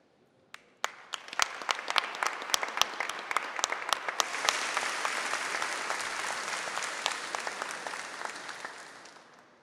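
Audience at a formal solemn session honouring chaplains breaks into applause: a few isolated claps first, then a swelling, sustained wash of clapping that fills the hall before tapering off near the end.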